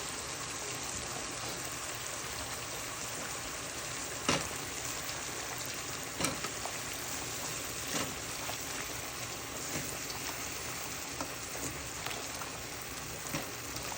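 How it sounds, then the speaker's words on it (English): Squash pieces tipped into a pot of simmering Guyanese chicken curry, giving a steady close wet sizzle and crackle with a few sharper pops, no voices over it. "Now we're gonna come and throw the squash in."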